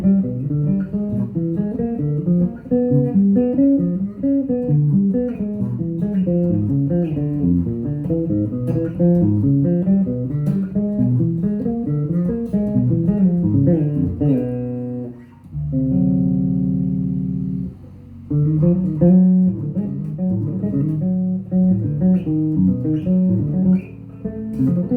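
Bass guitar plays a flowing phrase from the diminished dominant scale, shifted upward in minor thirds, with steady clear notes, a brief sustained chordal pause partway, and no talking.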